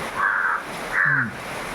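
Two harsh crow caws, close and loud, with a short pause between them and no other sounds.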